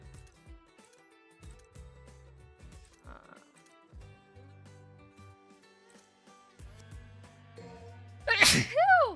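A single sharp human sneeze bursts out near the end, loud and close, after quieter game sounds and soft music.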